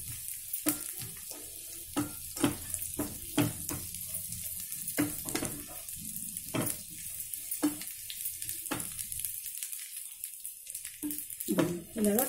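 Raisins fry in a pan for a sweet pongal offering, making a soft continuous sizzle broken by repeated sharp scraping and clinking of a spoon against the pan throughout.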